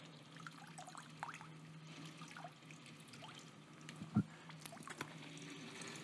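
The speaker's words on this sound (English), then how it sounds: "Open it. Water came out." Water trickles and dribbles out during arthroscopic knee surgery in an operating room. The flow is faint and steady, with small irregular drips and one louder splash near the end.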